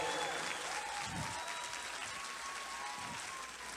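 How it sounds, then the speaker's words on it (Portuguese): Audience applause ringing through a church during a Baptist Christmas cantata, a steady dense wash of clapping sustained throughout at fairly low level. "Você pode aplaudir ao Senhor."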